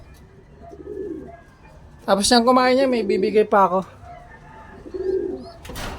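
Doraemon, a pet bird recovering after losing weight, gives soft low coos while eating pellets, heard faintly before and after a stretch of close talking.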